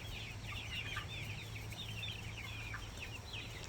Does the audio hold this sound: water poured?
no